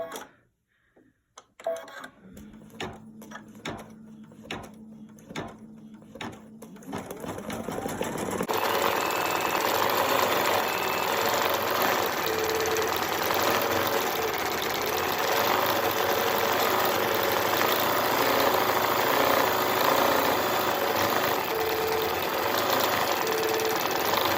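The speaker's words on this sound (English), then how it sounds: "I've already got it loaded, so I'm going to go ahead and stitch that out" Computerized embroidery machine stitching a snowflake design in light blue thread, starting with sparse clicks and short mechanical bursts before settling into a steady, loud, continuous whirring hum of rapid needle strokes, close up and with no voices.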